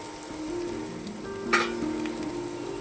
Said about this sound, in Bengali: ডিমটাকে সাথে দিয়ে ভেজে নেব।